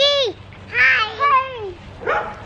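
A dog gives a few high, whining yips and barks up close at a child's birthday gathering at home, mixed with excited voices.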